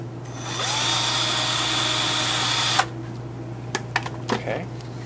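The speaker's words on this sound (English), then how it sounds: "drill a second hole" A power drill whirs steadily for a few seconds, then stops, followed by a handful of small clicks and handling knocks.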